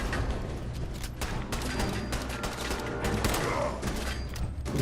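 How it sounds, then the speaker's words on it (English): Dense, sustained gunfire from a Fallout 4 battle, a loud continuous barrage of overlapping shots with no break across the whole stretch. "Who's shooting me?"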